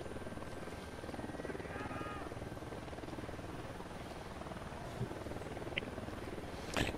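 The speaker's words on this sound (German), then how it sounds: "Warum ist aber auch noch so ein Unidad-Heli?" An Unidad military helicopter in the game Ghost Recon Wildlands flies nearby, its rotor giving a steady muffled chopping drone throughout, fairly faint, with a brief click near the end.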